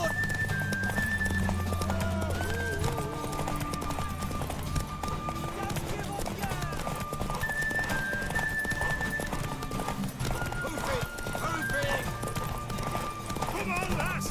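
Horse hooves clip-clopping at a run in The Witcher 3 game, with an occasional neigh, under steady background music and in-game voices talking.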